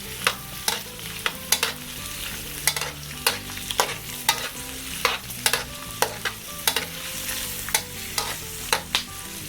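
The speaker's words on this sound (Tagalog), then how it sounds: "hahaluin lang po natin ng hahaluin itong ating sibuyas at bawang" Onion and garlic fry in a pan while a spatula stirs them, sharp scraping clicks landing in a fairly regular rhythm over a constant sizzle, near and with no voices.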